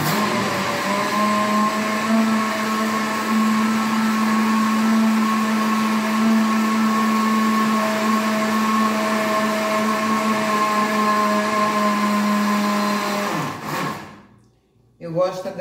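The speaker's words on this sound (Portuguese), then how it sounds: "Eu gosto de tá dando essa batida na açúcar, com óleo e os ovos, pra ficar bem diluída." An electric mixer beats sugar, oil and eggs for a grandmother's carrot cake, a loud steady motor whine with a constant pitch that runs unbroken for about thirteen seconds before winding down, followed by a brief clatter.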